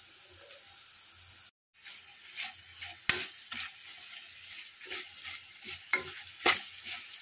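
Bitter gourd frying in a pan, a steady soft sizzle broken by a brief silence, then repeated scrapes and knocks of stirring that rise above the hiss.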